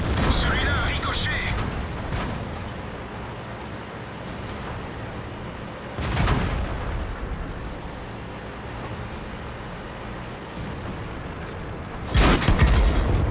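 Artillery shells land in a World of Tanks match, heavy booms arriving at intervals of several seconds against a constant low rumble of engine and battle noise, with a player talking over it.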